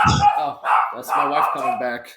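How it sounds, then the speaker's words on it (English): A small Maltese dog barks in short, sharp bursts close by indoors, several quick barks mixed in with someone talking over them. "That's my dog barking right just to alert me."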